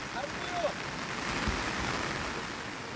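Heavy rain from Cyclone Remal pouring down in Silchar, Assam, a dense, steady hiss of downpour that fills the whole stretch without a break, with no voices heard.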